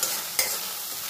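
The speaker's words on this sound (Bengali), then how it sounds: "পেঁয়াজটা একটু তেলে ভাজা ভাজা করে নেওয়ার পর" Ground onion paste fries in oil in a pan for a fish curry, a close, continuous sizzle with one brief scrape of stirring partway through.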